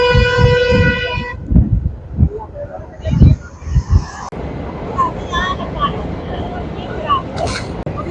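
A train on the Rameswaram–Kanyakumari line gives a sustained horn-like tone at the start. Voices talk nearby, then a broad continuous rolling rumble takes over.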